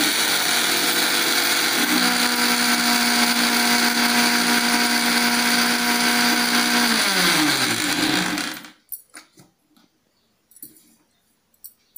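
An electric mixer grinder whirs loudly and steadily as it grinds herbal powder, its pitch dropping near the end before it cuts off, followed by a few faint knocks and clatters.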